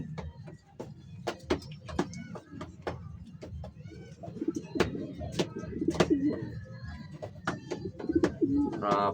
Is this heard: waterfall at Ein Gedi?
no